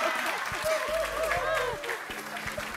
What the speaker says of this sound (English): clap for them, clap for them, clap for everybody.